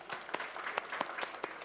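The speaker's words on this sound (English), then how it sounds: "Round of applause again." Seminar audience at a labour law event clapping, a brief scattered round of a few distinct claps at irregular intervals, fairly faint and sparse.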